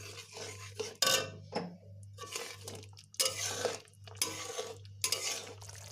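Mustard paste being stirred into a Bengali-style fish curry with small mola fish in a pan: spoon scrapes and clatters against the pan in uneven bursts over a steady low hum, moderately close.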